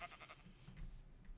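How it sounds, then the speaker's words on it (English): Sheep in the Minecraft video game give a few short, faint bleats against a low background hum, with no talking. "might as well just kill the sheep"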